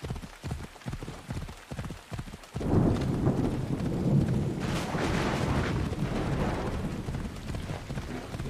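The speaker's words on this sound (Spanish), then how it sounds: "se ha puesto a llover como muy repentinamente, ¿no?" Thunder and rain in the Assassin's Creed Odyssey video game: a few heavy low thumps give way to a loud, sustained rumbling roar of rain and thunder that fills the rest of the clip.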